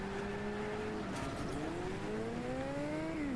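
A car in the video game Next Car Game is driven with a steady engine drone that rises in pitch as it accelerates, with a faint tire squeal. The engine sounds close and plays alone without talk.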